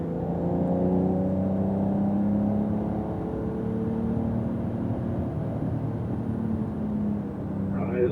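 A Porsche Carrera GTS accelerating on a wet race track produces a sustained engine drone that climbs steadily in pitch. The tyres hiss over the damp surface throughout, and a faint voice may be present.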